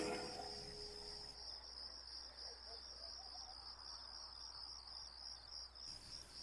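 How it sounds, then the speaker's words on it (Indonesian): Crickets chirp in a steady, high-pitched trill through a quiet night, faint and constant with no other sounds. "Sesekali kudengar suara binatang malam seperti jangkrik"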